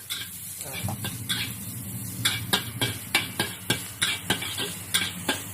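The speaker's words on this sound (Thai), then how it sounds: "ใส่น้ำมันหมูลงไป นี่เราคั่วเครื่องก่อนเนาะ" Aromatics stir-fried in lard in a pan while making stir-fried luffa gourd: a steady sizzle under repeated metal spatula scrapes and taps against the pan, close and fairly loud, with no talking.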